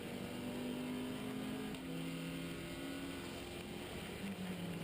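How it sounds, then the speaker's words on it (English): A Seat Leon race car with a 2-litre turbo engine at full throttle down the back straight of the Kirkistown circuit, a loud, steady engine roar that holds for several seconds with a slight pitch shift partway through, no voices. "It's that 2-litre turbo engine just propelling it down this back straight at real breakneck speed."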